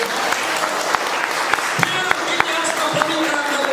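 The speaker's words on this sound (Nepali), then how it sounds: "हामी ताली बजाउने छौँ" A church congregation clapping together during a Nepali sermon, steady rhythmic applause with sharp individual claps standing out, loud and close, with voices mixed into the clapping.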